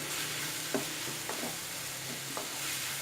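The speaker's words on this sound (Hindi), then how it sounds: "इन तमाम चीज़ों को अच्छे से मिक्स करके फ्राई कर लें।" Vegetables stir-frying in a pan with ground red chilli and soy sauce, a continuous close sizzle broken by a few soft scrapes and taps of a spatula, no voices.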